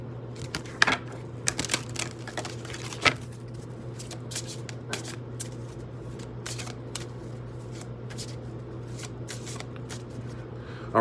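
Oracle cards being shuffled by hand in a quiet room, a run of crisp riffling and flicking bursts, some sharp and close, over a low steady hum.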